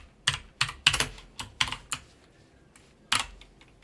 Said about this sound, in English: It's an American keyboard.